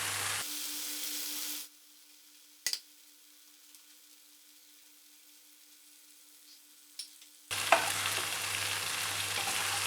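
Eggs frying in spicy masala in a pan, a loud, close sizzle at the start that drops to near silence and then returns just as strongly near the end.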